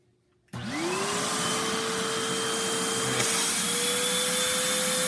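A Lego single-cylinder vacuum engine spins up abruptly to about 6000 rpm, a loud, continuous high whine with a rising tone that then holds steady and close.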